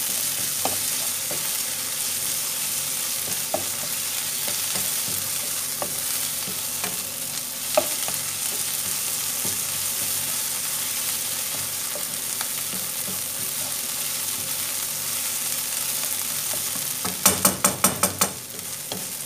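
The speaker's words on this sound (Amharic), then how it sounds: "ሰደና አርጌ ለተወሰነ ደቂቃ ተብሰዋለሁ" Tomato paste seasoned with black pepper is stir-fried in a pan while cooking ful, giving a steady, soft sizzle with occasional spoon scrapes and a quick burst of metallic clatter near the end.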